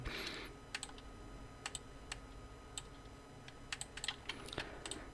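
Keys on a computer keyboard pressed one at a time during illustration software work, sparse clicks spread irregularly over a quiet background with an initial brief rustle.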